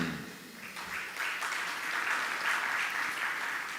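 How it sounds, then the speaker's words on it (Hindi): Audience clapping during a Jain monk's religious discourse, a dense steady applause that swells after a brief dip and holds strongly, heard alone without talk. "तालियां तो बजा रहे हो"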